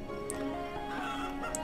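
Chickens cluck softly in the mobile farming game Farm Village: Middle Ages, faint clucks sitting under a steady layer of game music and ambience, with no voices.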